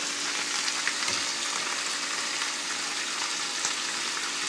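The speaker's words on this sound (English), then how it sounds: "I'm going to hit it, just a little water." Carrots and bok choy sizzling in a hot pan right after a splash of water, a loud, even hiss of frying and steam that holds steady throughout with no talking.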